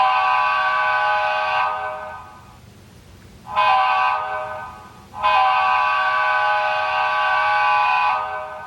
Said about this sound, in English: when you blow the horn